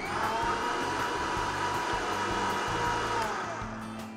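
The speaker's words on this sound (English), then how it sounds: "Blend this well to make a puree." A kitchen blender purees onion with organic red chilies, a steady loud whirring motor hum that runs unbroken and without talk, easing slightly toward the end.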